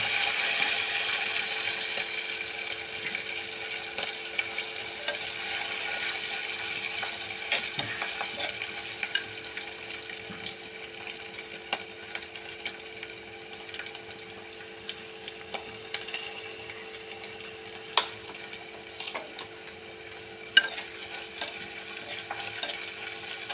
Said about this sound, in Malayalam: ഇതിലോട്ട് പച്ചമുളക് അരിഞ്ഞതും ഇടുക നന്നായി ഇളക്കുക